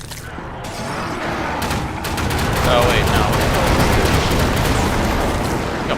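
Rapid heavy gunfire from the slag cannon weapon in the first-person shooter Wrath: Aeon of Ruin, a dense continuous barrage of booming shots and blasts lasting throughout, loud and close, with a brief spoken remark over it.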